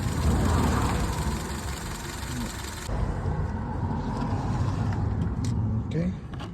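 A 2007 Honda Civic 1.8 engine idles with a misfire on cylinder 4 from a failed ignition coil, giving a steady, rough, uneven rumble heard close up, with a faint click or two near the end.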